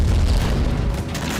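Heavy explosions from Russian bombardment along the eastern Ukrainian front line, heard as a loud continuous booming rumble with deep low-end weight.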